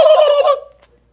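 A human voice imitates a turkey gobble in one loud, rapid warbling burst close to the microphone, cutting off abruptly into silence.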